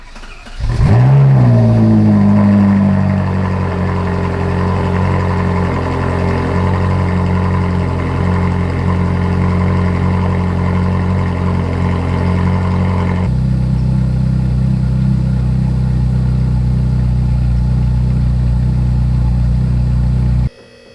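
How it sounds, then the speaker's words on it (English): A Ferrari 458 fitted with a new exhaust fires up from cold in chilly weather, with a sharp starter crank and loud flare, then a steady, high, rumbling fast idle that drops to a lower, calmer idle partway through. "we're going to go ahead and do a cold start. It's cold outside, new exhaust."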